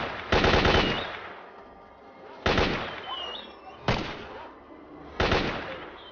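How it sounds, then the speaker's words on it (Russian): Four Walther pistol shots fired in the shooter game S.T.A.L.K.E.R. Lost Alpha, each a sharp, loud crack with a short echoing tail, spaced irregularly about one to two seconds apart. "А звук прикольный, кстати, у Вальтера при выстреле"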